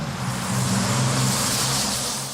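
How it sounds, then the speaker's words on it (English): A double-decker bus drives past with a loud, broad roar of engine and road noise that swells and then eases slightly toward the end. "This is what a double-decker bus sounds like to a toddler."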